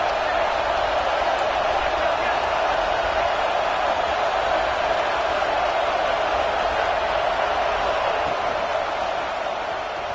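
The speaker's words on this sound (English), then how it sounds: "Big third down as the crowd gets behind this defense." A football stadium crowd roars on third down, urging on the defense against South Carolina: a steady, dense wall of cheering that holds evenly throughout, with a voice speaking over it.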